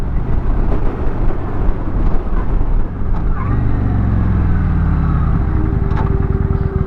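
A Kawasaki Vulcan 900 Classic cruiser motorcycle engine drones steadily while riding, a loud low rumble with wind noise that rises slightly in pitch midway as the bike pulls, continuous throughout with no talking.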